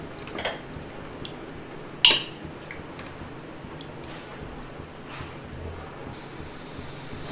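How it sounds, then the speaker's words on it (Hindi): A spoon stirs dal, mutton, water and spices in a pressure cooker pot: a few scattered metallic clinks and scrapes over quiet wet sloshing, close by, with no talk. "और इसे चम्मच से एक बार अच्छे से मिक्स करेंगे।"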